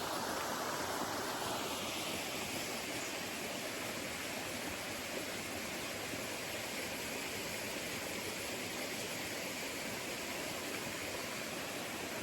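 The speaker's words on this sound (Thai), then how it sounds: "เสียงน้ำตกไหลโคตรกินเล" A waterfall in a forest setting pours steadily, a broad, constant roar of rushing water at moderate level that holds unchanged throughout, with no voices.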